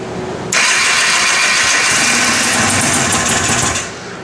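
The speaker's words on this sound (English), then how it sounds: "we'll just run it full choke and turn it over and see if we can get life out of it" An Arctic Cat 250 Trail Blazer engine on full choke cranks over loudly and close by, a sudden whirring rattle that runs steadily for about three seconds before dying away.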